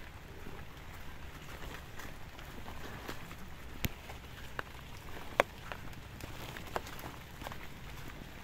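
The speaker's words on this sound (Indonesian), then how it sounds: "perjalanan kita hujan-hujanan" Rain falls during a walk through a village coffee plantation, a soft, even patter with scattered louder drops ticking at a distance, fairly faint overall.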